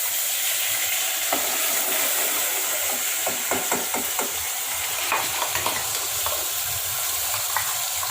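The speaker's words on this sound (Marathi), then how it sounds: "हिंग कढीपत्ता तेलामध्ये आणि मग मसाला परतून मसाला परतायचा" Asafoetida, curry leaves and masala frying in hot oil while a spoon stirs, giving a continuous loud sizzle with repeated scraping and knocking strokes against the pan.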